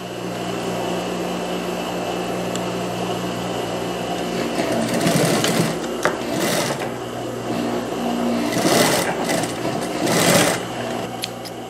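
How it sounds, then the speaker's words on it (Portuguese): A sewing machine stitches a folded seam in knit fabric for a wide-leg jumpsuit, humming steadily up close and rising into louder, faster bursts of stitching twice along the way. "E agora eu vou dobrar essa parte e passar a costura fechando"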